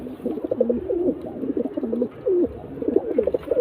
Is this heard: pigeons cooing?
yes